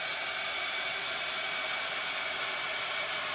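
A hair dryer heat-setting a St. Patrick's Day craft project, blowing hot air onto bubbled areas of a board; a steady, loud broadband whoosh runs unbroken from start to finish with no voices.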